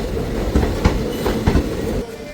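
The Ambala Cantt Express, train 14735, on the Sri Ganganagar to Ambala Cantt route, with a loud, close rumble and a few sharp rhythmic wheel clacks over steady rail noise.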